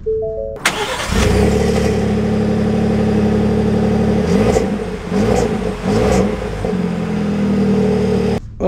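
A 2024 Ford F-150 XL single-cab pickup with the EcoBoost engine starts up, then its loud, close engine hum runs steadily as the truck pulls away, with a few rising revs in the middle and no talking.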